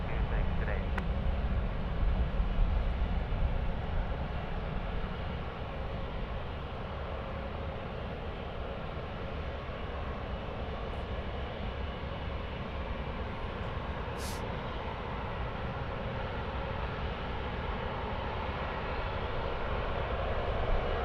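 A China Southern Boeing 787 departs Sydney Airport, its steady broadband engine roar holding at a constant, moderately loud level for the whole stretch without fading.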